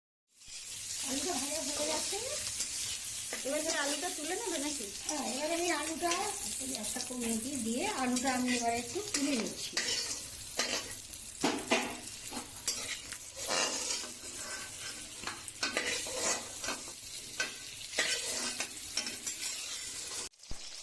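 Cut potatoes fry in oil in a kadai for a home-style fish curry, giving a steady close sizzle with spatula stirring scrapes throughout; a voice is heard over the frying during the first half.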